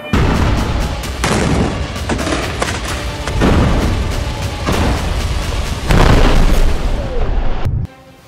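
Bombing in Gaza produces a series of heavy, booming explosions, several loud blasts arriving at irregular intervals with rumbling decay between them.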